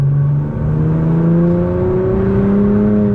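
A 600 WHP Nissan GT-R engine revs hard, its loud, close drone climbing steadily in pitch as it builds under acceleration, with no talking over it.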